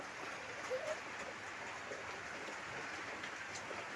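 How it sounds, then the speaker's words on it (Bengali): Steady hiss of rain falling continuously, a broad even wash of noise with no clear breaks, moderately loud throughout. "এত বৃষ্টি"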